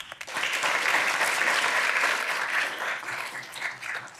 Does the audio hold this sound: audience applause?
yes